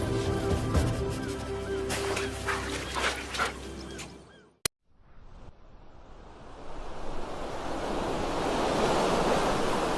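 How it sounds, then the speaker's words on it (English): Surf rolls onto the Namib coast where a river meets the sea, after a busy stretch of other sounds and a sharp cut, rising into a broad, steady wash of breaking waves with wind. "where the river meets the sea"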